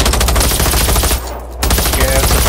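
Loud, rapid gunfire from the game Generation Zero, sustained bursts in close succession that cut out briefly, then resume at full volume.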